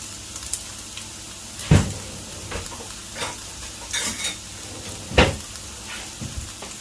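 Long-cut red carrots brown in a pot for Afghani pulao with a soft, steady sizzle, broken by a few louder utensil scrapes and clinks against the pot. No one speaks.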